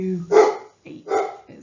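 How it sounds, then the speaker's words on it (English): A pet dog barks twice indoors, loud and close, in short sharp bursts with a brief gap, while a person speaks during a recorded lesson. "I am so sorry for my dog in the background."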